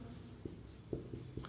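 A teacher writes on a board during a current affairs general knowledge class, making a few soft scratchy strokes and taps at an uneven pace against a quiet room hum, with no one talking.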